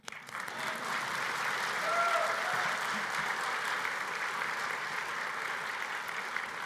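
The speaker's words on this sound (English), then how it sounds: "You can clap." Sustained applause from a seated audience at a meteorological society's annual award ceremony, a dense, even wash of clapping that swells briefly near the middle and carries on for several seconds.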